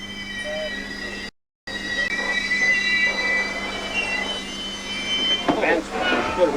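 A Canadian passenger train rolls along the tracks near the Maine border with a steady, moderately loud rumble and thin high wheel squeal, briefly cutting out once before resuming.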